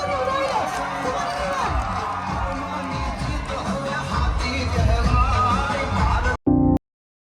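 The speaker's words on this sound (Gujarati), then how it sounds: "જોરદાર તાળીઓથી વધાવી લો" A large crowd at a fashion show event cheers and applauds in a busy, rumbling mix of voices and clapping with shouts over it, continuous until it cuts off abruptly at the end.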